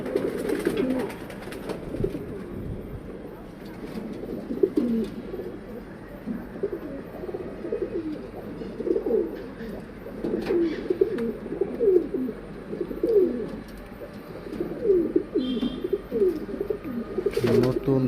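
A mixed flock of old and new pigeons coos steadily and close, many overlapping low, throaty calls rolling on without pause against a low hum.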